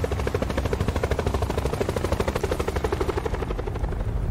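A helicopter in Call of Duty Black Ops 4 thumps with loud, close, fast and steady rotor beats over a heavy engine drone that continues throughout.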